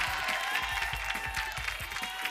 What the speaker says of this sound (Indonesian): terima kasih tepuk tangannya meriah